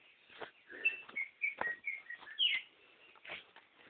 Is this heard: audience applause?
no